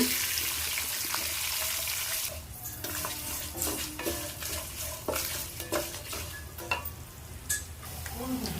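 Black sesame seeds roast over medium heat in a pan. A soft, continuous sizzle carries a burst of spoon scrapes and clinks against the pan in the second half, with no voices.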